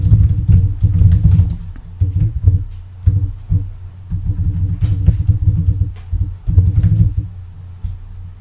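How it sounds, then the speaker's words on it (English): Close, soft tapping of keys comes in short irregular bursts separated by brief pauses, with a steady low rumble underneath. "Here, I'm just typing up a little description."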